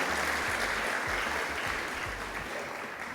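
Steady audience applause for African First Ladies at a Merck Foundation Africa Asia inauguration event, a dense wash of clapping that holds evenly for about three seconds and fades slightly at the end, with low rumble beneath.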